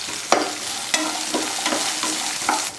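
Garlic, ginger and coconut sizzle in a hot pan for a parotta salna, with a spoon scraping and stirring about five times in a steady rhythm over the constant frying hiss.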